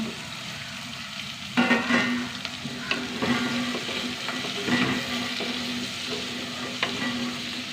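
Onion, ginger, green chili and drumstick pieces fry in hot oil with a steady close sizzle, jumping louder as they go in, while a spoon stirs and scrapes the pan at intervals.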